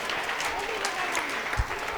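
Students and audience at a school quiz competition clap for a team after a correct answer, a brief burst of crowded applause at steady loudness with a few sharper claps standing out.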